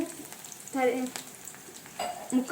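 Potato pieces for aloo fry dropped into hot oil, crackling into a burst of sizzling frying with stirring between, while a voice speaks over it in a home kitchen.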